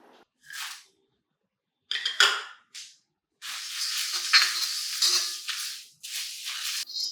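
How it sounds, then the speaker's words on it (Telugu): Curry leaves and spices frying in a pan for a spice powder, as a spray of sizzling that comes in short bursts and then settles into a longer steady frying hiss, with occasional faint stirring clinks. "ఇంకొక నిమిషం పాటు వేయించుకోవాలి చూడండి చక్కగా వేగిపోయే తర్వాత"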